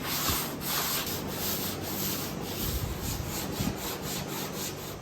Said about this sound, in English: Ready to start block sanding the hood today.